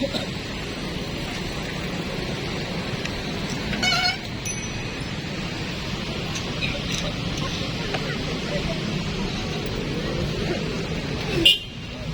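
Night traffic on the seafront road at Pantai Losari in Makassar: a car passes with a steady road rumble and honks, with a sharp toot near the end and people talking nearby.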